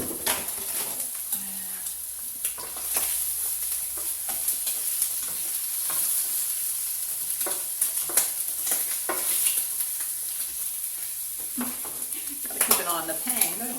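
Bacon sizzling in a frying pan, a constant crackling hiss with a few pan and utensil clinks, while a person talks briefly near the end.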